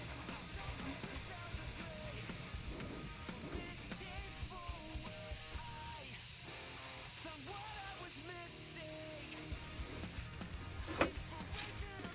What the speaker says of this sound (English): I'm going to be hitting the stencil with the paint and letting the overspray take the paint to where it needs to go